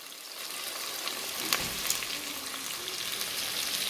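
Tomatoes and spices fry in a pot for mutton yakhni pulao, giving a steady crackling sizzle with a brief scrape or clink near the middle, close and fairly loud, with no voices.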